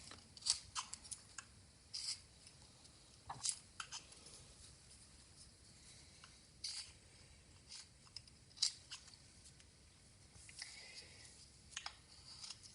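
A knife carves into a pumpkin in short, scattered crisp cuts and scrapes, faint and close, with quiet pauses between strokes.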